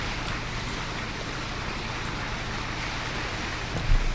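A jet ski engine skimming over water in a video game gives a steady, unbroken droning rumble with washing water noise, loud and constant throughout, with no voices.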